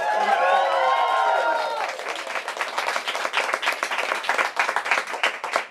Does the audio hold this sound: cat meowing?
no